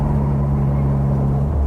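A 1960 Bugeye Sprite with its 948 engine driving through a turn: a loud, close, steady engine hum that drops sharply in pitch just before the end.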